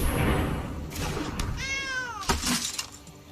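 A cat meows in the card video game MTG Arena, a clear rising-and-falling meow following softer noises, heard fairly close with no talking over it.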